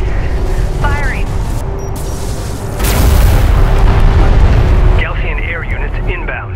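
Artillery firing and explosions in the strategy game Homeworld: Deserts of Kharak, heavy booming blasts swelling into a loud sustained rumble, with radio-style voice chatter over the top.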